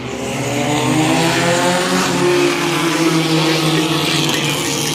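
Race trucks at Langley Speedway roar as they accelerate together on a restart, a loud, dense engine drone with rising pitch that stays steady and close, with faint commentary underneath.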